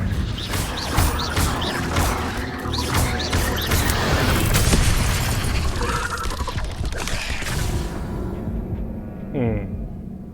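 Spell effects from Hogwarts Legacy crackle and boom in a string of loud magical impacts and crashes, fading out toward the end, with a voice speaking between the blasts.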